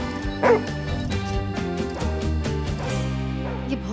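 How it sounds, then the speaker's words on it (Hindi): A dog barks sharply once or twice close by, over steady background music with harmonic tones. "ये भौंकने की आवाज कहाँ से आ रही है?"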